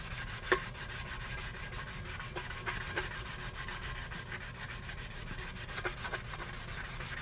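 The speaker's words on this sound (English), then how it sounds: "We're just going to sand those super bumpy parts off" Sandpaper rubs over bumpy epoxy on a tumbler cup, making a continuous, faint, close scratchy sound with a few sharper strokes and no talking.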